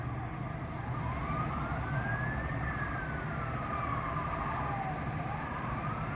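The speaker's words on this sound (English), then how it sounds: "fire truck, ambulance." Fire truck and ambulance sirens wailing on Route 66, slow rising and falling tones sweeping over heavy traffic rumble, heard from a short distance and moderately loud.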